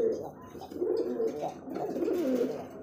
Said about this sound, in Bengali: এটা সিঙ্গেল নর কবুতর, ডাকতেছে দেখেন, ওই ল ডাকটা শুনেন